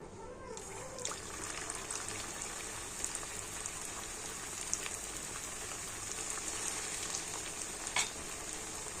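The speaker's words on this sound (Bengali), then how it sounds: "তো এখানে আমি দুটো দুটো করে টিফিনগুলো ভেজে নেবো" Gentle, continuous sizzle of semolina snacks frying two at a time in hot oil, with soft crackles and occasional louder pops, and no one speaking.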